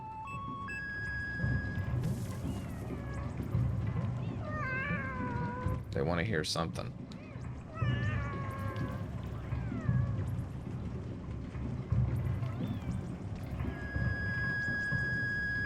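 Cat in the video game Animal Well meowing repeatedly, several rising and falling mews scattered across the clip, heard under someone talking.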